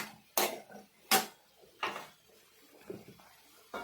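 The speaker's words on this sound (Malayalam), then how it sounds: "ഇനി നമുക്കിത് ഇളക്കാം." Prawn roast being stirred in a pan, several separate scraping and clattering strokes of a metal spoon against the pan, close and fairly loud with quiet gaps between them.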